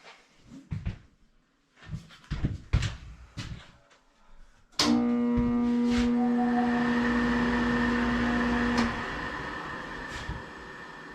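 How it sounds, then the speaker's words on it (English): A faulty blower motor in an old Lux Air furnace starts abruptly and runs with a loud, steady hum and a strained whine, after a few clunks and knocks. "Sounds like a bad blower motor."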